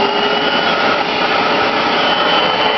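A vacuum cleaner runs steadily while sucking dirt from a van's interior after the upholstery has been scrubbed, a loud continuous motor whine and airflow roar with no talk over it.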